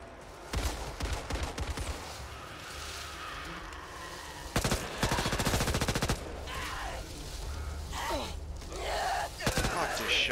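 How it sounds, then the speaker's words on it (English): An SMG fires in Back 4 Blood in rapid staccato bursts, broken up by short pauses, amid zombie-fighting chaos, with a player's voice gasping and talking over it. "SMG!"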